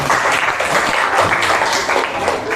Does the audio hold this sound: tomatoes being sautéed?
no